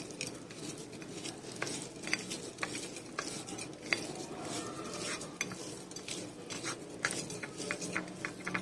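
A spoon clinks and scrapes steadily around a bowl, mixing black pepper, chaat masala, crushed chilli and other spices for a pakora batter. The clatter and stirring run close and continuous without speech.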